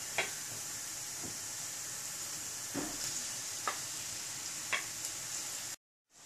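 Bacon sizzling in a pan with onions for tallarines a la carbonara, a steady faint crackle with a few sharper pops and spits at intervals, alone and without talk, cutting off abruptly near the end.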